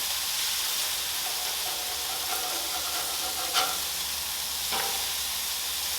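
Smash burger patties sizzle steadily on a Blackstone griddle, a close, even frying hiss broken by a couple of brief metal scraping strokes as a spatula works underneath, with no voices.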